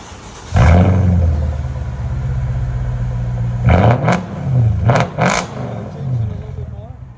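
A 2007 Mercedes S550 with a 5.5L V8 and straight-pipe exhaust with an X-pipe starts with a loud roar, idles steadily, then blips through several sharp, rising revs close to the microphone.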